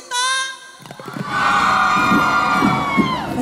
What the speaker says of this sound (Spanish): A ver, chicas, un grito.